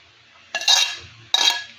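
Spices and oil tipped into a clay curry pot make two short clattering, scraping bursts, close and fairly loud, separated by a brief pause.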